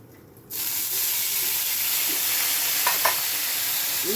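A little water splashed into hot oil already holding turmeric, chili powder and nigella seeds for a pabda fish curry sets off a sudden loud burst of hissing sizzle that holds steady, with a few faint utensil taps.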